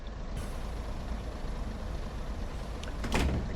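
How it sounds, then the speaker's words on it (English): The door lock releases on a Class 142 Pacer diesel railcar in Train Sim World, heard as a sharp pneumatic hiss of air near the end, over a steady loud idling engine rumble. "Unlock the doors."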